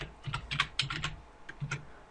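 Light clicking on a computer keyboard during software setup, two short bursts of keystrokes close and fairly quiet, with no talking.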